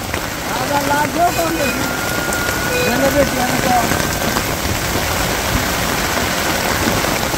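Steady rain pours on a rainy day in a village on the way to the market, a dense, close patter on surfaces, while a person talks intermittently over it.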